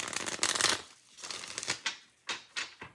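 Tarot cards being shuffled, a burst of riffling followed by several short, separate flicks and slaps of the deck, close and fairly quiet, with no voice.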